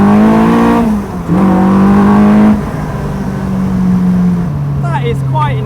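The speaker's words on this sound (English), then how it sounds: "So here goes the full acceleration." A track car on 13-inch Avon CR500 tyres accelerates hard, its engine droning loudly and climbing in pitch through gear changes, with a brief dip between shifts, heard close from inside the car.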